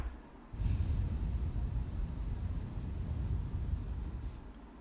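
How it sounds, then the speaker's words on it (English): A breathy, rushing gust of air blown into a Fifine K678 microphone holds for several seconds as a rough low roar before fading. "And now I will gently blow into the microphone."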